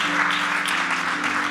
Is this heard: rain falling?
no